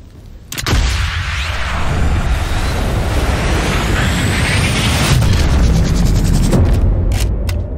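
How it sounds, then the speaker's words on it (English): Explosion in the video game Sniper Elite 5, a sudden loud boom followed by a long rumbling, debris-filled roar with mechanical rattles and a second crash near the end. "Impressive little explosion."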